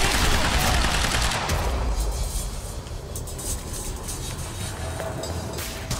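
Shotgun fire in the Quantum Break video game comes as a loud burst of blasts at the start, then rapid gunfire fades into a rumbling, noisy background of repeated shots.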